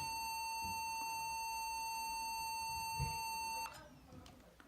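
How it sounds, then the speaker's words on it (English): A Compaq Presario CQ57 laptop sounds a keyboard error beep code: a steady, loud, high electronic tone held for several seconds that cuts off abruptly, followed by faint handling noise. "when you hear this sound, 1, 2, and then for a long run, the second beep, that's your keyboard"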